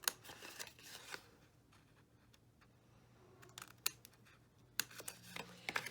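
Scissors snip away paper squares on a papercraft gift box folio, giving faint close crisp cuts in scattered clusters with brief pauses between them and no talking.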